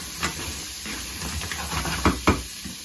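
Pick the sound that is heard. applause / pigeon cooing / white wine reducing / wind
white wine reducing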